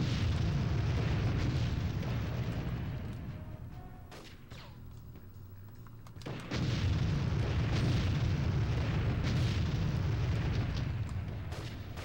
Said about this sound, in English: we have our rocket launcher that we collected, we're going to use that on the super robots and kill them even faster